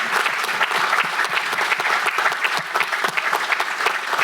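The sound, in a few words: audience applause at city council meeting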